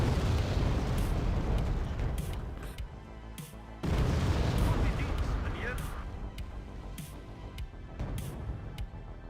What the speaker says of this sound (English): Yeah, the mortars, whoever's playing with the mortars is good.